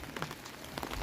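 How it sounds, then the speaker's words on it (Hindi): Light rain falls outdoors with a soft, steady patter of drops on surfaces. It is quiet and close and continues for a moment with no voices. "इतनी तेज तो नहीं हो रही बारिश,"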